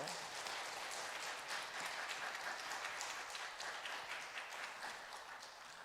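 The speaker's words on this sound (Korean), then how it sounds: "박수해 주시기 바랍니다" A church congregation applauds as the pastor comes forward at a peace prayer meeting, a faint but continuous wash of clapping that stays fairly even for several seconds and tapers slightly at the close.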